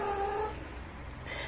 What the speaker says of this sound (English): That's just my cat in the background making those noises